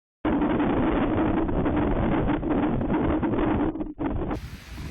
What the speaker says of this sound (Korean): 바람이 굉장히 많이 불고 있는데